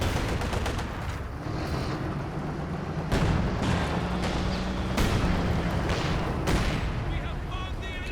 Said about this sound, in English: Good hits from the heavy mortar again